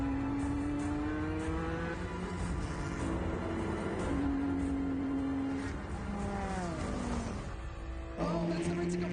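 Continuous loud engine drone of race cars, including a Ferrari, lapping a track in an endurance race, with pitch sliding as cars pass and shift, and a sharp change near the end.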